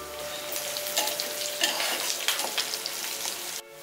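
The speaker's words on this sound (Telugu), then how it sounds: "సో ఆనియన్స్ కొంచెం ఫ్రై అయ్యాక దాంట్లో కరివేపాకు వేసుకోవాలి" Sliced onions and curry leaves sizzle steadily in hot oil for a chana masala, a close, even frying hiss with faint stirring and no talk.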